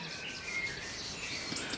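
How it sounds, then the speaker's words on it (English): Several birds chirp and tweet steadily at dawn in a garden, a busy high chorus with no talking. "And the birds are giving it rock all."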